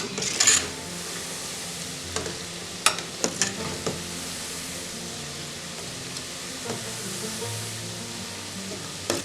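Flour croquettes fry in oil over medium heat while being stirred now and then, giving a steady soft sizzle with a few sharp clinks and scrapes of a utensil against the pan.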